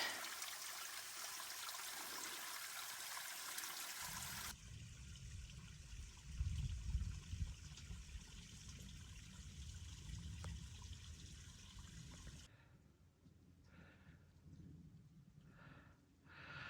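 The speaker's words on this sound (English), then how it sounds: "Here's my water source." Water trickles and splashes steadily at a small spring along the rocky Appalachian Trail, a close, continuous rushing flow that shifts in tone partway through and grows quieter near the end, with no voices.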